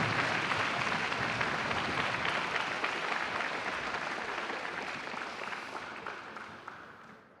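An audience at a school alumni awards ceremony gives sustained, dense applause that stays steady for several seconds, then slowly fades and stops.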